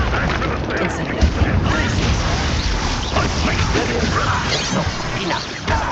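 In the Hogwarts Legacy video game, an Incendio fire spell roars out as a dense, loud, continuous whoosh of flame with crackling bursts and crashes, lasting several seconds.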